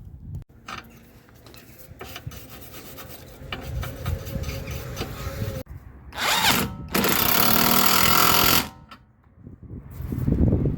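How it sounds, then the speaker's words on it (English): Wire brush scrubs the bolt threads on a Jaguar X-Type rear control arm in loud, rasping bursts, short strokes early, then a sustained harsh scouring spell followed by further brushing, with clinks between. "clean off the threads with a wire brush"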